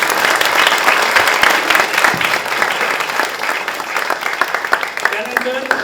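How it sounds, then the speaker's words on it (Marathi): An audience at a theatre festival discussion claps steadily and fairly loudly, a dense wash of many hands that thins slightly toward the end, with a voice briefly audible over it. "आपण सगळ्यांनी टाळ्या।"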